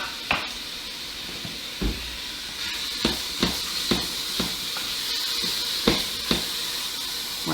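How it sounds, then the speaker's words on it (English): Bacon sizzles and crackles in a big pot on the stove, a soft steady hiss broken by sharp pops and occasional stirring scrapes. "We're just going to add our bacon and cook that down a little bit."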